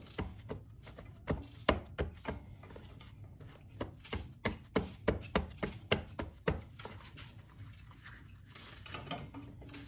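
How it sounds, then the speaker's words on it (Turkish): A knife chops onions on a board, quick regular taps in a steady run that builds, then fades into quieter handling sounds. "Soğan doğramaya başladı."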